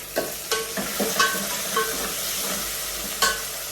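Onion and tomato vegetable curry sizzling in hot oil, stirred with repeated scraping strokes of a spoon against the pan, several distinct clatters over a steady frying hiss, close up and without speech.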